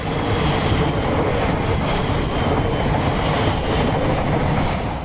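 A new Class 345 Aventra Elizabeth line electric train rolls along a short test track at the Alstom plant in Derby, with a steady loud rumble and wheel noise heard from onboard, no talking.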